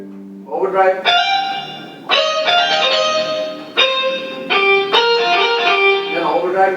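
Overdriven electric guitar sound from a Casio CTX 9000IN keyboard strikes a series of bright chords, each ringing briefly before the next, loud and upfront.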